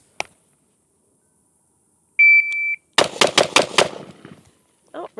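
A Q Sugar Weasel firearm fired at an outdoor shooting range: one sharp shot, a shot-timer beep, then five rapid shots in a quick burst, followed by a fainter final report.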